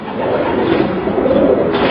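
Racing pigeons cooing in a loft, a close, loud mass of overlapping low throaty coos and murmurs that runs continuously with no talking.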